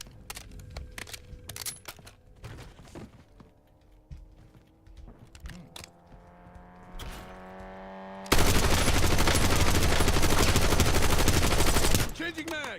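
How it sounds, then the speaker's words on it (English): Sniper rifle fire in the Call of Duty Warzone video game: sharp isolated shots crack out over a busy game mix, then a dense, loud burst of noise roars for several seconds before cutting off. "Someone's sniping."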